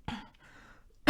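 A person clears their throat in two rough bursts, a shorter, softer one at the start and a louder, sharper one at the end, separated by a quiet, breathy gap.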